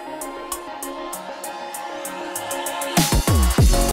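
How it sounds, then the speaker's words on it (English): An InstaHarmony synth plays bright melodic chords in a hyperpop beat built in Ableton, over a steady ticking hi-hat pattern. Near the end, heavy bass hits drop in with the synth and the mix gets louder and denser. "And we're going to use that InstaHarmony synth, put it back in."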